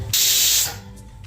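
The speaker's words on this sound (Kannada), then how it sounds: "ನೋಡಿ ಈಗ 3 ವಿಜಿಲ್ ಆಗಿದೆ." A loud burst of hissing steam rushes out for about half a second, then quickly dies away to a quiet background.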